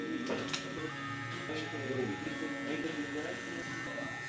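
Electric hair clippers buzz steadily while cutting curly hair for a flat-top with a skin fade, a close, constant drone with small ticks and shifts as the blade moves through, and a voice talks over it.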